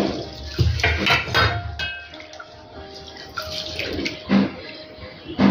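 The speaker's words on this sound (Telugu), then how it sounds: "ఇందులోకి వాటర్ యాడ్ చేసుకొని 1కి 2 సార్లు శుభ్రంగా కడగాలి." Sago, fenugreek seeds and chana dal are washed by hand in a bowl of water, producing close sloshing and swishing splashes with clinks against the vessel, in several uneven bursts.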